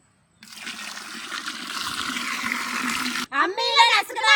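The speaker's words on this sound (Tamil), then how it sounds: "தண்ணி ஊத்திக்கலாம்." Water is poured while cooking a village-style goat leg dish, a steady close gushing stream lasting about three seconds that stops abruptly, followed by a person talking.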